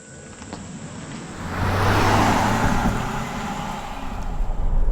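A 2021 Mitsubishi Outlander SEL PHEV plug-in hybrid driving, a steady low road and drivetrain hum that swells as it pulls away, with faint high insect-like whine and no talking.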